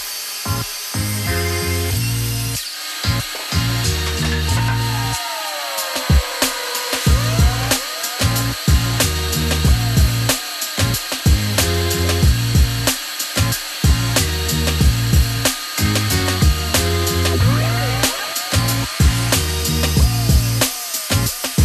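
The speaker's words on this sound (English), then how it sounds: "I am going to start ripping tops and bottoms." A power saw rips sheets of plywood into tops and bottoms for cabinet building, a loud, steady tool sound broken by short gaps and restarts across the whole stretch, with no talking.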